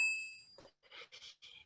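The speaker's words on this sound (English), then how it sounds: "this is to wake up the bell, where you give it a little hint of a sound to let people know that a full sound is coming" A meditation bell is struck lightly to wake it, giving a brief high ring at the start that fades quickly, followed by faint soft sounds.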